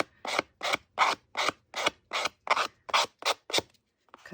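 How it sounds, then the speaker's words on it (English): Sanding block rubbed by hand along the edges of a textured writing board, ten even rasping strokes in a steady rhythm, close and clear with no talking. "I have a little sanding block, and then that is what I'm gonna do next, is just any edges, giving it a little bit of a sand"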